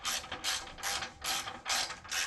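Ratchet tightening the clamp bolts on a 2018 Harley-Davidson Sport Glide Cobra 909 exhaust, five or six quick clicking ratchet strokes in steady rhythm, close up with no talking.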